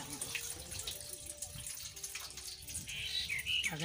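Rice being washed in clean water in a village kitchen: soft sloshing and trickling close by, fairly faint, with light clinks and a brief brighter splash near the end, faint voices in the background.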